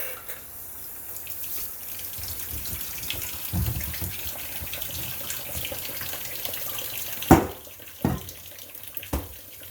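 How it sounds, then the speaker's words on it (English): Water runs from a kitchen tap to dampen fingers while making sourdough bread, a steady close splashing stream with a few louder sharp splashes near the end. "we'll dampen our fingers a little bit"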